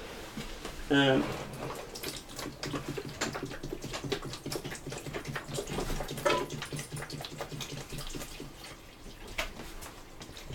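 Water splashing and trickling into a snake's water dish in a False Water Cobra enclosure set up indoors, close and uneven, with a short voice sound early and speech heard faintly at times.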